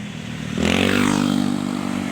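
A motorcycle starts up and pulls away toward town, its engine revving into a loud, steady drone close by, with a rattling clatter at the start and no talk.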